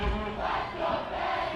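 A high school football crowd at a championship game chants in unison, voices swelling in a rhythmic roar that fills the stands, loud and close with no talk over it.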